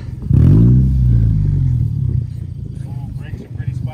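A Dodge 1500 pickup with a weak, barely charging battery cranks and catches, the engine roaring up in a loud rev and then settling into a rough idle, close by, as people talk over the end.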